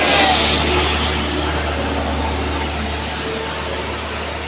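A Hino dump truck hauling a 15-ton load and towing an L300 roars steadily as it accelerates up a steep incline, its loud, sustained engine drone close and continuous with a broad, rough hiss throughout.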